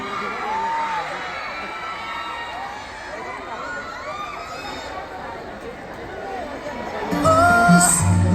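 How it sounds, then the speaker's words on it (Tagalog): A large crowd at an evening marketing convention cheers and shouts continuously, loud and dense, swelling louder near the end, with a voice talking over it. "Narinig mo ba gaano kalakas ang hiyaw, Daniel?"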